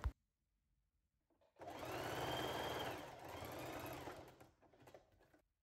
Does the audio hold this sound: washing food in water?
no